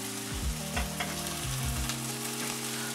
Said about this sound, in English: So the egg goes in, you let it sit for a couple of seconds, and then you stir.